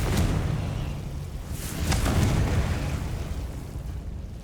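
A Confringo fire spell explodes in Hogwarts Legacy, a loud, sustained roaring blast with booming bursts and a rushing swell in the middle that fades slowly.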